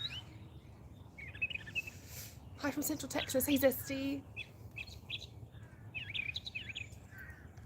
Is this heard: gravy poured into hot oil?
no